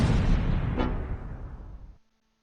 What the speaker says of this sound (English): Drop some mortars